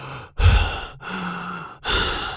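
A storyteller imitates a monster's heavy panting, giving three long, loud open-mouth breaths, each separated by a brief pause, close and alone.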